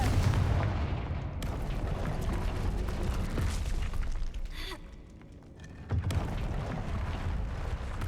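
A Confringo fire spell blasts in Hogwarts Legacy, a heavy, booming explosion with a sustained roar that dips briefly and then surges again.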